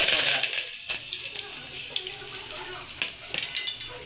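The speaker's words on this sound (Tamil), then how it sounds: "பாருங்கள், கடுகு பொரியுது." Mustard seeds splutter in hot oil with a hissing crackle that builds into quick, sharp pops near the end, under a speaking voice.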